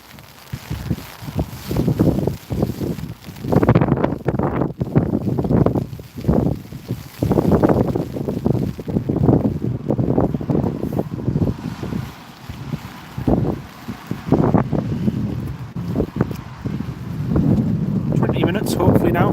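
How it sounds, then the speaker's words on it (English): Strong wind gusts buffet an outdoor microphone while planes are watched at Newcastle International Airport. The low roar swells and drops in uneven bursts and persists through the whole stretch, with a faint voice underneath. "you can hear that wind. That wind is picking up a bit as well"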